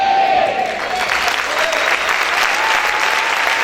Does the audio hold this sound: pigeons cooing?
no